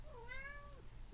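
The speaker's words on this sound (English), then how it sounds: "Hi, Kitty" A cat gives one drawn-out, wavering meow at close range, rising and then sliding down over about a second, with a faint sound starting at the very end.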